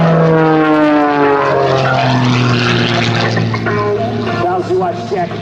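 Propeller aircraft engine roaring loud and steady through an aerobatic solo airshow maneuver as the pilot pulls the stick back hard, with the engine tone shifting as the plane climbs, while an announcer talks over it.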